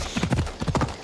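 Horse hooves clop rapidly in Assassin's Creed Odyssey, a close, rhythmic galloping patter of several quick beats, loud and uninterrupted.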